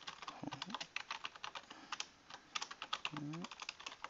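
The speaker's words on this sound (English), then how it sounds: "I can't type today." Rapid clicking keystrokes on a computer keyboard in bursts and pauses, close and fairly quiet, with a couple of faint short vocal sounds in between.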